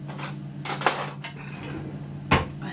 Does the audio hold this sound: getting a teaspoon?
yes